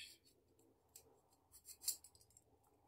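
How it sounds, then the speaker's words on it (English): Black coaxial cable being cut with a blade or cutters, giving quiet close snips and rubbing scrapes with one sharp crisp cut near the end, no talking. "Black cable, we cut it."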